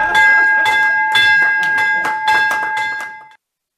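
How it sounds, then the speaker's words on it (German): A stock exchange bell rings loudly and continuously, struck in rapid repeated clangs with a sustained metallic ringing tone for about three seconds before stopping abruptly. "Mit etwas Flexibilität wird also auch künftig rund um den Globus die Börsenglocke läuten."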